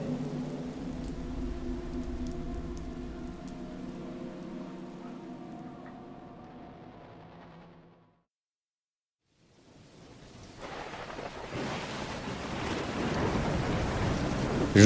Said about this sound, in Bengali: আকাশ কালো করে ঝমঝমিয়ে বৃষ্টি নেমেছে অনেকক্ষণ।